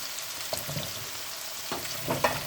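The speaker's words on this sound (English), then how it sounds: "So you just stir it in" Pumpkin cubes are stirred into a sizzling pot for Jamaican brown stew fish: a steady close frying hiss with a few soft scraping stir strokes, and no talking.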